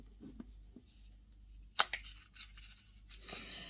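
Small piece of sticky tape sealing powder-pink gift packaging on an advent bag is pulled away, giving one sharp rip and a rustling tear later, close and fairly quiet in a still room.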